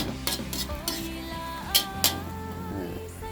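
A spoon scraping and clinking against a pan while pumpkin and egg are stirred, with a few sharp metallic knocks and a faint sizzle underneath.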